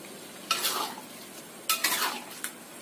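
Gulai tahu, a soup for lontong sayur, being stirred in a cooking pot: a few scraping, splashing stirs come in two bursts over a soft bubbling background, with no voices.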